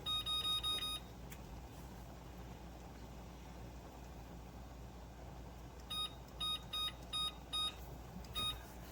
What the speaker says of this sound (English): Gonna set my timer.